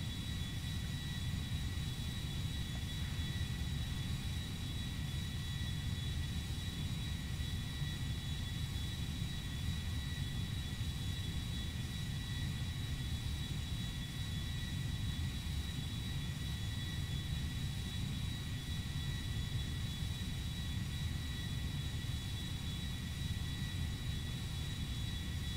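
A Boeing 747 jet airliner in the GTA V video game gives a steady, unbroken jet engine roar with a constant hiss and faint high whine, continuous and even for the whole stretch, with no voices.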